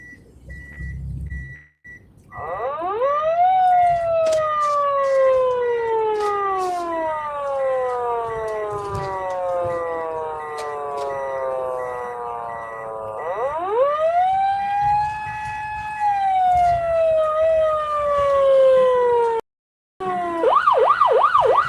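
An ambulance siren on a foggy road wails up and down in long, slow sweeps, loud and close, with two full rising-and-falling cycles.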